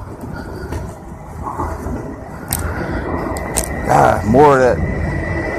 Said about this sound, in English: Hey, I hear a train.